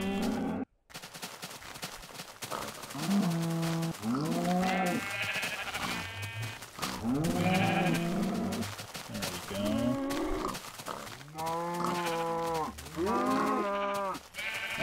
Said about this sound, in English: How many cows do I have in here?